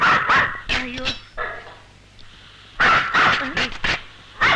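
A dog barks loudly in clustered bursts in a dramatic film scene, with a quieter gap between volleys and voices nearby.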